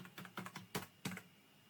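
Quick, soft keystrokes on a computer keyboard as a password is entered, a handful of close clicks in an uneven rhythm with brief pauses, heard alone in a quiet room.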